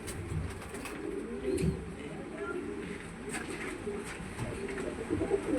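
Small pigeon cooing, a few soft low coos, faint and close, over quiet room noise.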